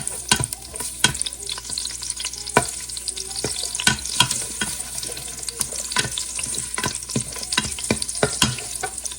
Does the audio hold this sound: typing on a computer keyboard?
no